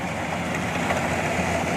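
Kubota 105 combine harvester engine running steadily at normal revs without throttle, a continuous low mechanical drone with broad rumbling noise and no voices.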